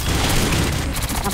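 Dense, booming gunfire from the Black Mesa video game, a loud continuous barrage of shots with no pause.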